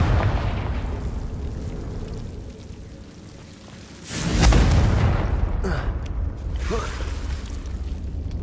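A Confringo fire spell explodes in the Hogwarts Legacy video game: after a quieter ambient stretch, a sudden booming burst erupts, followed by smaller crackling pops and debris as the blast fades.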